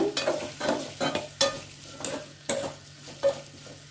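Taro root curry being stirred in a pan with onions and salt, a spoon scraping in repeated strokes over a steady close sizzle of frying.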